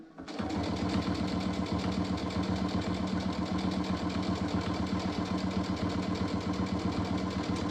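A sewing machine runs steadily while stitching a gaudy turkey-themed table cover, its fast, even needle chatter and motor hum continuing without a break from start to finish, close and fairly loud.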